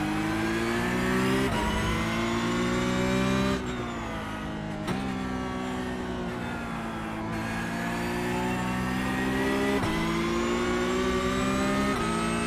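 A Porsche 911 Cup race car engine in the iRacing sim revs loud and steady, climbing through gears with sharp shift dips, close and continuous with no talk over it.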